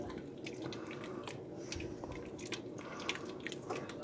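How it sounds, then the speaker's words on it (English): Sausage ragu with milk is stirred in a pan, giving faint, soft wet squelching and light scraping with small drip-like ticks over a quiet background. "Give it a good stir."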